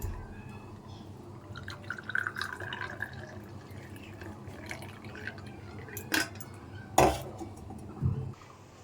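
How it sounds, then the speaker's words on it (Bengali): Hot tea strained and poured from a pan, with soft trickling and drips, faint clinks of a pot and utensils, and a couple of louder knocks near the end, heard close in a quiet home kitchen. "চা গরম হয়ে গেছে, এখন আমি চাটা নামিয়ে নেবো, আমার জন্য চাটা ছেঁকে নেবো।"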